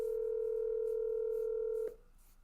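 A telephone dial tone hums steadily while a call is being placed, then cuts off abruptly with a faint click, leaving quiet line noise.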